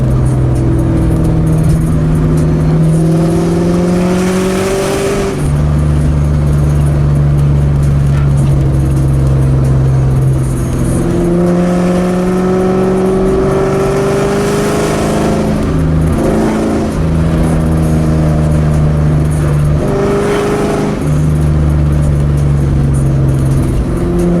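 A Ford Mustang engine revs hard and loud from inside the car, climbing in pitch through each gear before dropping at every shift. The pull-and-shift pattern repeats several times with no pause.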